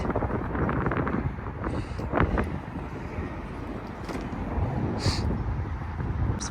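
Outdoor wind buffets the microphone in a steady low rumble throughout, with a few brief higher hissing gusts rising over it.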